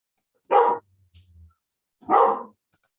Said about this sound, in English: just trying to get my dog to shut up